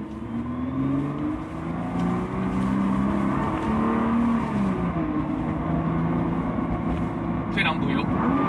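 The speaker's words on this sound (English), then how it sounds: "退档补油，我们要退档补油" A Nissan GT-R's engine drones and rises in revs during a test drive at Nissan headquarters in Yokohama, with a steady in-cabin roar as a voice talks over it.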